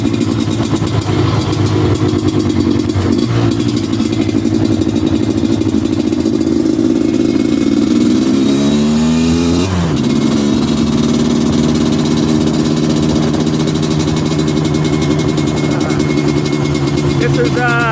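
A Suzuki LT250R quad runs loud and close on a cool fall day after a choked start, idling steadily with one rev that rises and falls midway, while someone talks over it.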